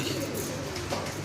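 A pigeon coos softly and continuously close by, a low warbling call with faint background noise.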